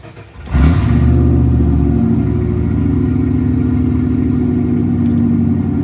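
A 1995 Ford F-150 two-wheel-drive pickup on a 9-inch lift cranks and catches, then settles into a loud, steady idle with a deep rumbling hum that continues to the end.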